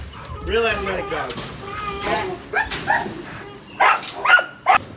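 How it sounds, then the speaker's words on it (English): Bandog or pit bull type dog in an outdoor kennel yard giving barks, yips and whimpers in uneven bursts, close and fairly loud, with a person speaking over parts of it. "Real athletic dog."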